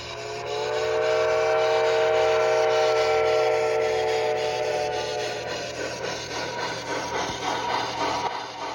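An HO scale model train climbs through a Santa Fe Cajon Pass layout, a steam helper paired with four F7 diesel units, giving a steady rolling rumble with a sustained tonal whine that fades into clattering wheel noise, with no voices.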